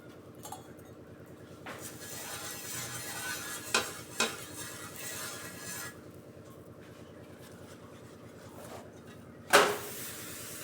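Oil sizzles on a hot griddle being greased for mixed-vegetable thalipeeth. A soft, continuous frying hiss runs throughout, with a few scraping stirs and one sharp metallic clink near the end. No one speaks.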